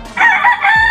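A rooster among a small flock of five gamefowl crows once, loud and close, in one sustained crow of about a second with no talking over it.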